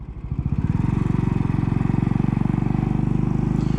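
Royal Enfield Bullet 500 single-cylinder engine starts up, then settles into a fast, even thumping beat, loud and close, with no talk.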